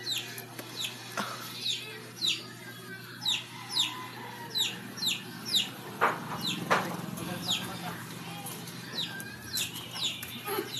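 Chickens cluck over and over in a quick, steady rhythm, fairly close, with faint voices in the background.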